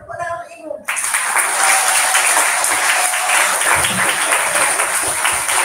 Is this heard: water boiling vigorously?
no